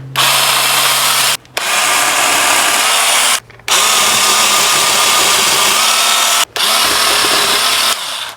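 An 8-inch TACKLIFE electric pole saw cutting through a tree branch, loud and close, running in four sustained whining bursts separated by short pauses.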